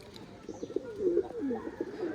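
Tula pigeons coo close by, a couple of soft, rolling low calls that overlap briefly against a quiet background.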